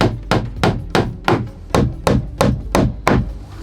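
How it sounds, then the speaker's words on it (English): Nails driven into a wooden hanger inside a sauna: nine evenly spaced, sharp hammer blows ringing on wood, close and loud, with no talk. "The other hanger is nailed inside the sauna."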